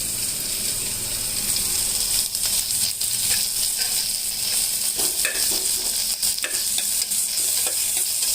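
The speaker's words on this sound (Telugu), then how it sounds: "వెల్లుల్లి మంచిగా వేగాలి." Garlic, crushed on a stone, fries in a pan with a steady close sizzle and a hiss throughout, punctuated by irregular clicking spatula scrapes and taps; no voices are heard.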